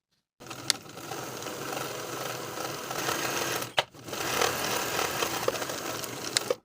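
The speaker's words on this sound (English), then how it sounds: "Now I'll sew the inner leg seam and the outer leg seam with a 5/8 inch seam allowance" A sewing machine stitches pant leg seams in two steady runs of fast, even whirring, broken by a short pause and a few sharp clicks.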